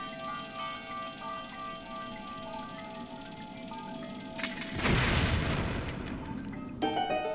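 A bomb explodes in the video game The Legend of Zelda: Skyward Sword HD, one loud close boom bursting out over steady background music, then a short sharp crack just before the end.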